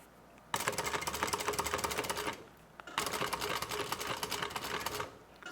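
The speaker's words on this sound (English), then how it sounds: "So I'm going to do a little back stitch right there." A sewing machine back-stitches through a bulky fabric tote bag in two loud, steady bursts of rapid mechanical stitching, each lasting about two seconds with a short pause between, heard close up and alone.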